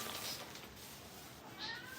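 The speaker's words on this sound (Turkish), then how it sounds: "Kızım şu an videomu sabote ediyorsun kedicik." A pet cat meows twice, fairly near and moderately loud, each call short and bright over a quiet indoor room where someone is repotting an orchid.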